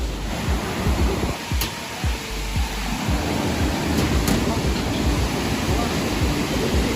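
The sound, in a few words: river water flowing under a bridge in Kasol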